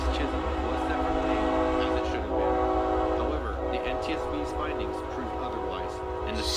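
A train rolls past outside a house, its horn sounding in long steady tones over a constant low rumble while a person talks over it throughout.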